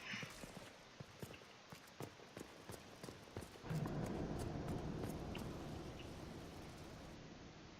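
Reindeer mount in the video game Dragon Age Inquisition, its hooves clopping in a steady walking rhythm, then a louder broad rushing wash swells up and continues beneath.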